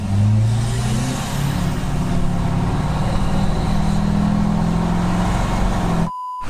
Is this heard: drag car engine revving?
yes